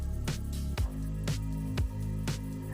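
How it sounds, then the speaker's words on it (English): Oil-marinated chicken cooks by steam on a griller with water at the bottom, giving repeated wet squishing pops and drips at a roughly even pace, close up and moderately loud with no talking. "You can see on the griller how quickly, because of the oil marination,"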